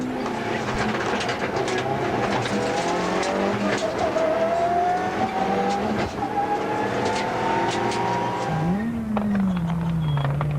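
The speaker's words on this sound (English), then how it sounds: "The N4 Mitsubishi of Rueda and Swanepoel takes on the A6 Corolla of Lawrence and Paisley" Rally car engines, a Group N4 Mitsubishi and a Group A6 Toyota Corolla, roar continuously on a stage, revving hard with pitch climbing through the gears, then a sharp drop and a fresh climb near the end.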